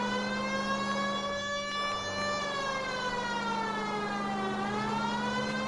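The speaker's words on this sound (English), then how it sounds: "At least if you put the siren on, it'll let people know what's happening before you hit them, Phelps." Police car siren from the video game LA Noire wails continuously, a steady rising and falling tone with a constant low hum beneath, loud and close throughout.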